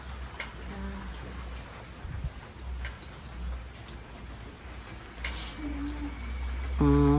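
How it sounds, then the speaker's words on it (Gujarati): Rain falls steadily in a village, a continuous patter on surfaces with faint voices in the background. "તમારા ગામમાં વરસાદ છે? અમારા ગામમાં તો બહુ છે."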